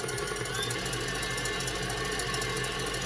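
An electric mixer whisks meringue for macaron batter, giving a constant dense mechanical buzz and rattle at high speed, steady and fairly close, with no talk over it.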